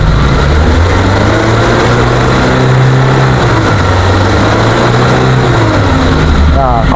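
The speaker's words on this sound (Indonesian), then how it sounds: "Ini suara mesin normal, tidak ada suara-suara yang aneh" Engine of a 2001 Suzuki Carry Futura pickup idling normally, a loud, steady low rumble with an even mechanical hum and no odd knocks, while someone talks over it.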